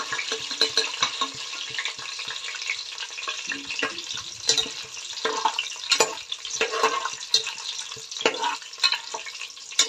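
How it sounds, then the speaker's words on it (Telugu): Biryani spices and bay leaves sizzle and crackle in hot oil for a vegetable biryani, with steady close frying and some stirring, no talk. "ఆయిల్ హీట్ అయినాక మనమైతే బిర్యానీ సామాన్ వేసుకోవాలి. బిర్యానీ ఆకు ఇవన్నీ వేసుకోవాలి."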